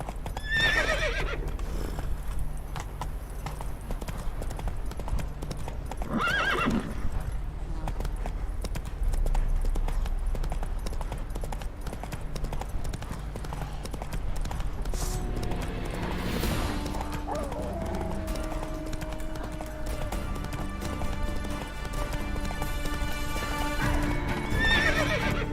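Roach, the horse in The Witcher 3, gallops with loud, near hoofbeats and lets out a couple of sharp neighs, set against swelling game music.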